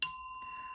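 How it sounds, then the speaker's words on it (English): A single small hand bell struck once, its bright ring starting sharp and fading slowly into a long, clear sustained tone in a quiet room. "I'm going to go ahead and ring this bell"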